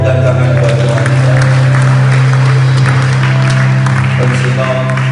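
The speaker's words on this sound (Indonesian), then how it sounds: "Tepukan tangan buat Tuhan kita." A church congregation claps for God during the final worship service of 2024, steady crowd clapping blended with sustained low musical tones and voices throughout.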